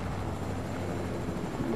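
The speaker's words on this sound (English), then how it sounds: "Oh, our friends have a helicopter" Helicopter flying in a Fortnite-style battle royale video game, a steady engine and rotor drone that holds evenly throughout with no talk over it.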